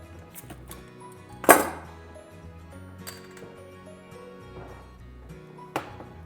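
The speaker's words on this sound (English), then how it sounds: "So we're going to have our Stella. We're going to open up and get ready to go." A bottle of Stella lager is opened in a kitchen: one sharp, close cap pop, then quieter handling sounds and a light clink near the end.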